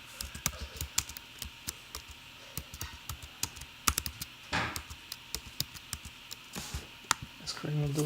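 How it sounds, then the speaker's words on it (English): Keystrokes on a computer keyboard while entering a title in editing software, a steady run of close, crisp clicks with brief pauses, and a short low rumble partway through. "Type one out whatever I want."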